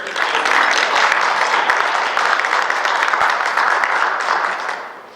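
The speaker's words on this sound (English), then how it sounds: "if I can also just give you guys a round of applause" A room full of people at an arthroplasty and implant appreciation event bursts into steady, dense applause that holds for about five seconds before tapering off at the end.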